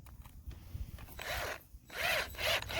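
Screws backed out of wood with a power driver, short whirring bursts with ratcheting grind, close and moderately loud, separated by brief pauses.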